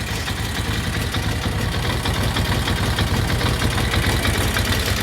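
A cold Brough Superior SS80 vintage motorcycle engine idling at low revs, a loud, steady, rapid thumping throb close by, running alone without talk.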